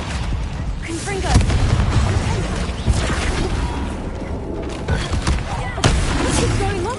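Confringo fire spell blasts in Hogwarts Legacy combat, loud booming explosions and crackling impacts in repeated bursts, with voices and battle clatter around them.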